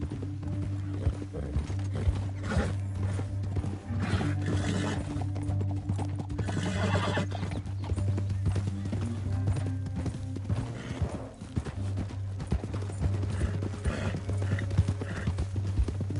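Horses in the Red Dead video game gallop with steady, rapid clip-clop hoofbeats that run throughout, joined by occasional whinnies, all fairly close and continuous.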